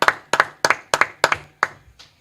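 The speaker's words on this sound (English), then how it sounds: "we're gonna go ahead and clap it up." A group claps in unison during a brotherhood class, seven sharp, evenly spaced doubled claps in a steady rhythm, close and loud, the last one fading as the pattern stops.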